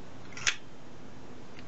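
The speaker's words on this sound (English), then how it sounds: "the shutter turns at the same speed at 1/1000th as it does at 1/10th" A single crisp click as the shutter of a Univex Mercury II camera fires, close and sharp, followed by quiet.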